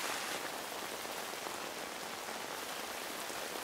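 Steady rain falls and patters on surfaces in a dense, even hiss, fairly quiet and unbroken, with no voices.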